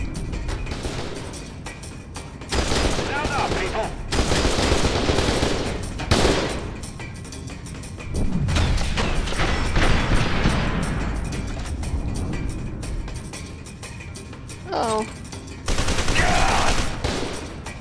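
Sustained bursts of SMG fire in the first-person shooter F.E.A.R. 2: Project Origin, loud and dense with rapid repeated shots, broken by short pauses and a few explosive booms.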